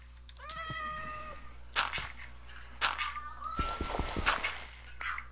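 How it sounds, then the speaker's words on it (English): Cat meows in the video game Minecraft, a couple of rising and falling calls up close, followed by thumps and clatter, with faint background noise. "You hear a cat, Dylan?"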